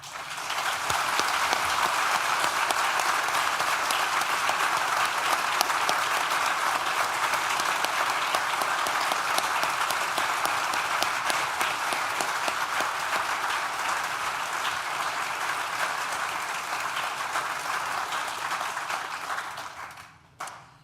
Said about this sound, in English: it just deserves one more very large round of applause for everybody in this room today for all that you've done